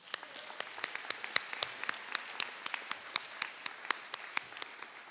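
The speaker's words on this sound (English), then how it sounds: "if we could get one more round of applause for the three of them" Sparse, crisp clapping at a school awards assembly, individual claps rapid and uneven from only a few hands, fairly quiet and steady across the clip without talk.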